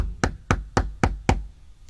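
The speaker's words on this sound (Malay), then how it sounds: "Sesuatu yang ketuk pintu mempunyai suara serupa mak saya, Casey." Five sharp knocks land on a door at an even, deliberate pace, close and loud, followed by a faint tap and then quiet; no speech.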